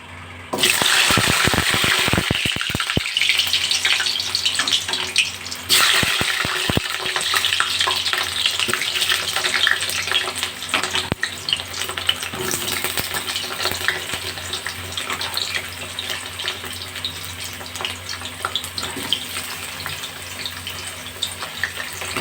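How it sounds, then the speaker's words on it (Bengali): Pumpkin pieces dropped into hot oil in a wok crackle in a loud, dense sizzle that starts abruptly and carries on steadily, with occasional scraping stirs close by and no voices. "তেল গরম হয়ে গেছে এবার মিষ্টি কুমড়োগুলো এই তেলের মধ্যে দিয়ে দেবো"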